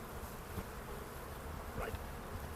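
Bees buzz steadily around a hive, a dense continuous drone heard close up with no voices over it.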